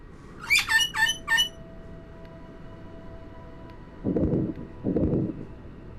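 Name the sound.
bird calling in Titanic VR video game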